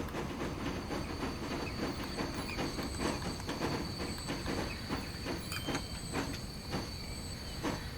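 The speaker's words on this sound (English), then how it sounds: "Look at that, we're having a train race, everybody." Trains running in the video game Transport Fever 2, a steady, moderately quiet rolling rumble with faint rhythmic clicks of wheels over the track and no one talking.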